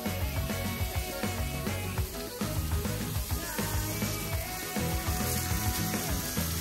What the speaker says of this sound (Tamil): தண்ணி பட்டோன்னு இன்னும் அதிகமாக கொதிக்க ஆரம்பிக்கும் கல்லெல்லாம்